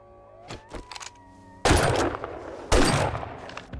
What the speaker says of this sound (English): That rifle's got some punch to it, eh?